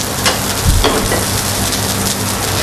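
Vegetables crackle and sizzle in a small heated frying pan, a steady dense hiss with a few brief louder pops and stirs, close and continuous with no voices.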